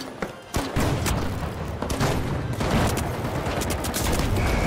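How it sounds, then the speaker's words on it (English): In The Finals, a sudden heavy blast from a rocket lands early, followed by a dense, continuous barrage of gunfire and booming impacts that stays loud throughout. "I blew myself up, hit him with a rocket"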